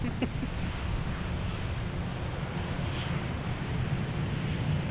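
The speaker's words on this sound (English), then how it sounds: "We got Swiss Air taking off." A Swiss Air airliner takes off at Boston Logan Airport, its engines a loud, continuous broadband roar that rumbles steadily from a distance with wind noise mixed in.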